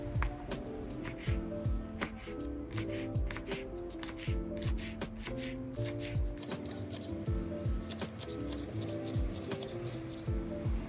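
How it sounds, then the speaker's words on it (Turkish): Rapid rhythmic knife chops on a cutting board as herbs are chopped, close and steady, with a musical backing playing throughout. "Şimdi de sırasıyla bütün yeşilliklerimi doğruyorum."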